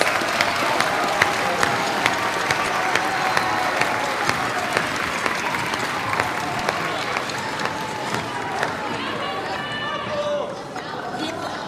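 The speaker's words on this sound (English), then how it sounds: "Please give them one more round of applause as they make their way to their seats." A middle school audience gives sustained applause as the 8th grade orchestra heads to their seats, steady crowd clapping with scattered cheers and chatter mixed in throughout.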